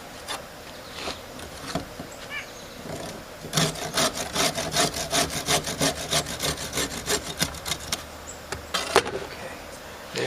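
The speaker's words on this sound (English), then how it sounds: "We used the hand saw." Hand saw cutting wood for a rotted picnic table, a steady run of rhythmic rasping strokes close by, building in pace after a few scattered scrapes at the start.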